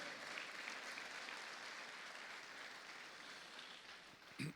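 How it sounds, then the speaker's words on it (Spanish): A church congregation claps loudly and steadily, a dense wash of applause that holds throughout and ends with a couple of sharp final claps. "Usted le da palmas al Señor con fuerzas."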